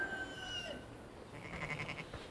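A ram bleats once, a drawn-out wavering call that fades out, followed by a softer, rougher bleat, close by and heard alone.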